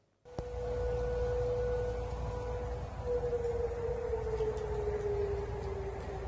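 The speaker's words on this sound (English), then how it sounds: "Those are the sounds of rocket sirens going off in Tehran over the weekend" A rocket warning siren in Tehran starts abruptly and holds a steady, wailing tone that slowly shifts in pitch, loud over a low rumbling background.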